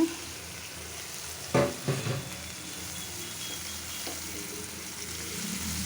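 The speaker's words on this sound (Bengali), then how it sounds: "ইলিশ মাছে পাতুরি রান্না করতেছি নড়ে নড়ে যাচ্ছে" Hilsa fish paturi cooking in a pan with coriander powder and chilli, a soft steady sizzle with a few louder stirring scrapes near the start and a faint one later.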